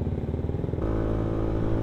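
Motorcycle engine idling and pulling away slowly on a night ride with a group of riders, a close, steady low rumble that shifts into a smoother, fuller drone partway through.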